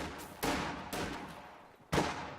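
Volley fire crackles in a strategy video game battle, three sharp gunfire bursts spaced unevenly, each a loud crack trailing off into a fading rumble.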